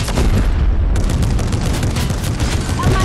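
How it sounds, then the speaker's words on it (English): In the video game Fortnite, a turret fires at walls in a dense, continuous barrage of loud, booming gunfire that fills the whole stretch. "Wait, can we still use the turret?"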